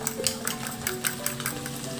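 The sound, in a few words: beaten egg poured into sizzling pan with chicken liver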